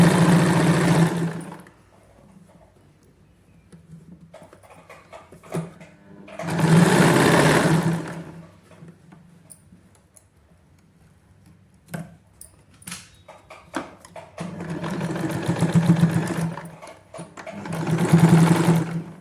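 A sewing machine stitches elastic into the waistband of palazzo pants. Several loud, close bursts of rapid mechanical whirring and needle chatter are separated by quiet pauses with faint handling noises.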